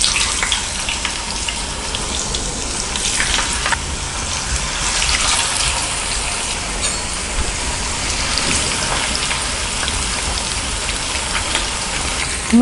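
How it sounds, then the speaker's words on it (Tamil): Nendran banana slices for Kerala chips deep frying in hot oil over a medium flame, a steady dense sizzle and crackle that holds evenly loud throughout with no voices. "நம்ம மீடியம் ஃப்ளேமில் வச்சுட்டு நல்லா ஃப்ரை பண்ணிக்கலாம்."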